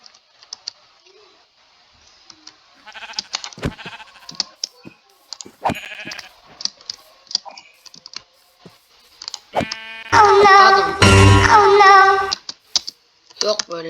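Keyboard clicks and taps come in scattered bursts, then a loud, wavering sheep bleat stands out clearly for about two seconds.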